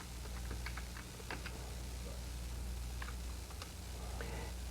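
Quick, light keystrokes on a computer keyboard as a folder name is typed, a short irregular run of soft clicks over a steady low hum, fairly faint and close.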